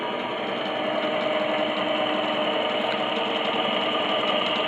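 Compressor running close by with a steady, dense whirring drone that holds constant throughout, with no voices over it.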